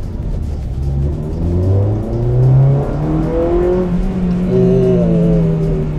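A Honda Civic Type R with Mugen parts, its VTEC engine revving hard through rising gear pulls on a winding road, loud and close, with climbing whines that reset between gears.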